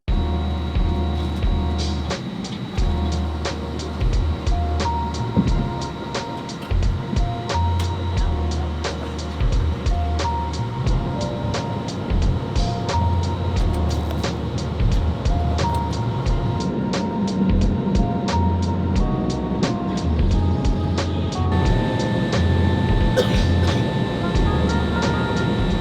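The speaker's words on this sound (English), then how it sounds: "let's enjoy takeoff" A United Airlines A321neo takes off, heard from inside the cabin as a steady, loud engine roar and rumble with a continuous whine that holds throughout.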